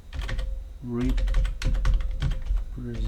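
Clicky keystrokes on a stiff computer keyboard, typed in quick uneven bursts close up, with a voice talking over and between the keys.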